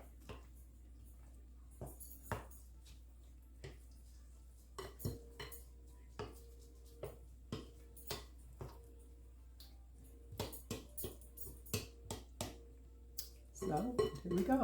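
Bacon stirred into a tomato dip in a bowl: repeated light clinks and taps of a utensil against the bowl, close but quiet, with a soft wet mixing sound building near the end.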